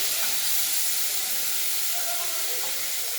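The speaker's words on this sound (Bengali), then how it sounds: "আর কেটে রাখা আলু বিনসগুলো আমরা ভেজে নেব" Cut potatoes and beans frying in a pan of hot oil, giving a steady, fairly quiet hiss and sizzle that runs unbroken.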